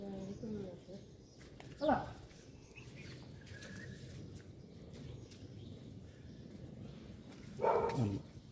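Dogs bark in two short, loud bursts while being fed ladoos, with a low background hum and some faint sounds between the barks.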